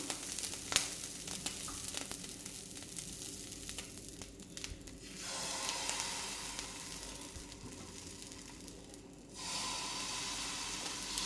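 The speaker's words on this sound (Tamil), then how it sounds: "இப்போ இந்த டைமில் நம்ம தோசையை ஊற்ற ஆரம்பிச்சிடலாம்" Dosa batter poured onto a hot griddle stone, a steady sizzling hiss that swells louder around the middle, dips briefly, then returns at full strength, with no talk.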